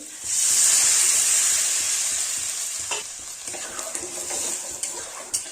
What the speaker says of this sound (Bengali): এখন পরিমাণ মতো জল দিয়ে দেব। এখন দিয়ে দিচ্ছি জল।